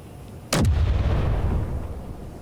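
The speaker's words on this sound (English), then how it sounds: "let's go ahead and just test fire it so you can see what it's like" A single heavy artillery shell fired as a test in the Space Engineers game: one loud, booming launch blast followed by a long, rumbling roar that slowly fades, with no talking.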